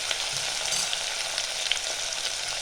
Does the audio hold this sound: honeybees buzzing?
no